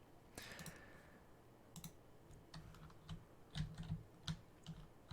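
Quiet clicking of a computer keyboard being typed on to switch layout, scattered light keystrokes in short irregular bursts, close and faint with no talking.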